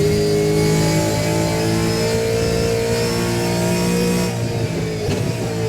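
A Gen3 V8 Supercar engine in Assetto Corsa revs loud and close, a rich harmonic drone that holds steady, then dips briefly and rises again near the end, with no talk over it.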